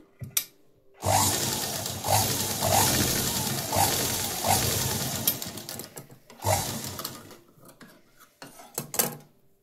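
A sewing machine stitches blouse lining in short rhythmic bursts of rapid mechanical whirring, separated by brief pauses and a few small clicks as the fabric is repositioned.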